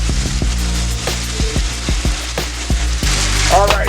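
Honey-glazed salmon sizzling on a Firebee griddle, a steady close crackle and hiss with scattered sharp pops and light utensil taps throughout.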